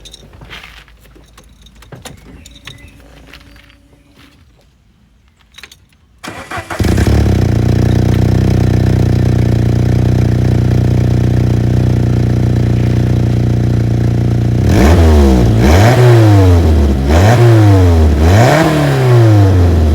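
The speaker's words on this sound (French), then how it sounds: "Il y a un petit problème de pot d'échappement." A car engine with a faulty exhaust starts up, then runs loud and steady before revving hard in repeated rising and falling bursts, close to the microphone, after some faint handling noises at the start.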